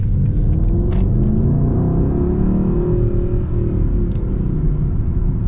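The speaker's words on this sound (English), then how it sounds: "Gotta love that sound though out of that V8." Deep, continuous V8 engine rumble from inside a 2022 Mercedes-AMG GLE 63 S, rising briefly in pitch as the throttle lifts, then settling back to a steady burble.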